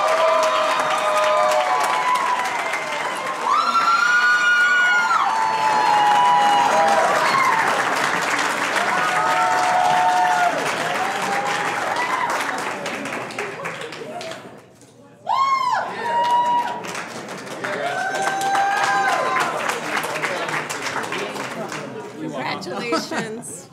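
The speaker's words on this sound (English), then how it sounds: "Another round of applause to all of our state winners." At a startup pitch competition, a crowd applauds and cheers the first-place winner with loud sustained clapping mixed with whoops and shouts, briefly dropping before swelling again, while voices and chatter carry on over it.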